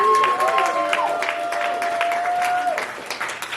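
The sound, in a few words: audience applause at poetry event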